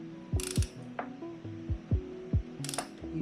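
A ratchet wrench is cranked to tighten a Shogun frame slider on a Kawasaki Ninja 650 motorcycle, giving bursts of sharp metallic clicks in an uneven rhythm, close and clear, with no talking.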